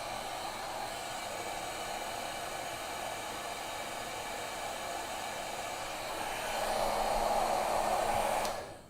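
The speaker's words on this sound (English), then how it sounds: "I've got a heat gun here" Heat gun blowing steadily while shrinking heat-shrink tubing, a constant airy whooshing drone that swells slightly louder before cutting off at the end, with no talk.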